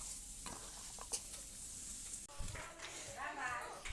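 An onion fritter (piyaji) mixture is stirred and fried in a pan, giving a close, steady sizzle with scraping stir strokes that grow louder near the end.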